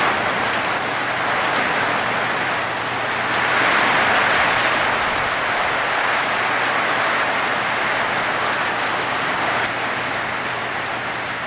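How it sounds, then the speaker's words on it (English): Heavy rain pouring down outdoors in South Texas wildlife country, a dense, loud, steady hiss of drops with a slight swell in the middle, alone with no talking. "it is raining so hard it is unbearable"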